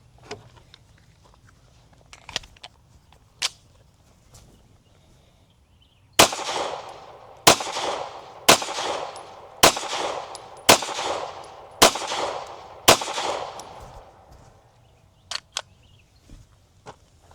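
Staccato HD 4.5 pistol fired with range ammo at an outdoor range: a quick run of seven loud, sharp shots about a second apart, a few lighter clicks before and after, no talking.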